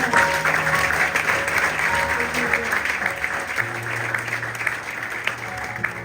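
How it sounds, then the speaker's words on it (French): A church congregation at a Sunday service applauds with continuous, dense clapping throughout, while a sustained music tone plays underneath. "Et nous acclamons la parole du Seigneur."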